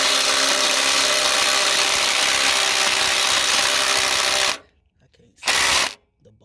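An impact driver hammers loudly and continuously at nuts on a car sunroof panel for several seconds, then stops briefly before a second short burst.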